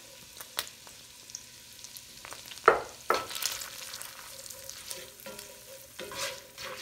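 Peppers and onions fry in melted butter as a utensil stirs them around the pan, with a soft, quiet sizzle broken by several scraping strokes and knocks.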